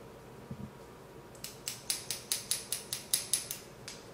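Hair scissors snipping through hair during a short bob haircut, about a dozen crisp close metallic cuts in a fairly even rhythm, preceded by a couple of soft handling knocks.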